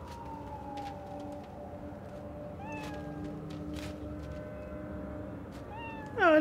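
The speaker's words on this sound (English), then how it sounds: "A little kitty." Cat meows inside the game Cyberpunk 2077, a few rising cries set over steady ambient game sound and ending in a louder, closer yowl, with no talking.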